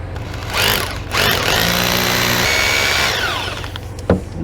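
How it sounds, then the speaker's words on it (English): A power drill bores into a wall stud to hang a dimensional sign, a close, loud sustained grinding whir that rises in pitch and then winds down after a few seconds, with no talk. "I just don't want to drill too much into this wall"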